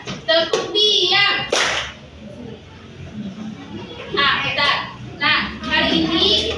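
Children clap together in rhythmic bursts during a classroom clap game, a few sharp group claps mixed with kids' voices and an adult speaking between them.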